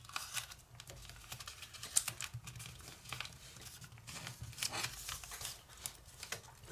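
Paper being creased and folded by hand for an origami squishy ball: soft crinkling, tapping and rustling in quick irregular bursts, close and fairly quiet, with no talking.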